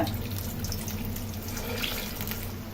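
Egg onion bondas fry in hot oil in a kadai, a steady, dense sizzling hiss and bubbling that holds constant throughout, close and fairly loud.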